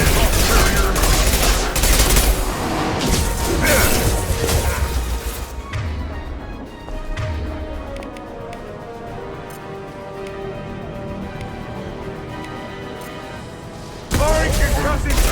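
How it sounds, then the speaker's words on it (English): Bursts of gunfire and a concussive shot from Mass Effect 2 combat, dense rapid fire and impacts for several seconds, then a quieter stretch with game voices and ambience before the shooting resumes loudly. "Firing concussive shot!"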